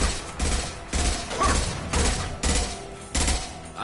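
Rifle fire in Mass Effect Legendary Edition on PlayStation 5, heard as roughly seven close, loud bursts in a steady rhythm, with short gaps between them.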